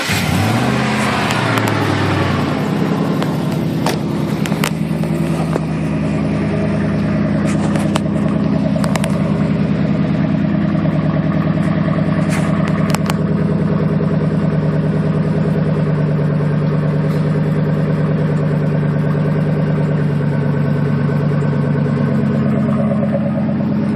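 A 2000 Ford F-150 with a 4.6 engine and Flowmaster exhaust cranks briefly, fires up, then settles into a steady, deep, rumbling idle that stays loud and close throughout.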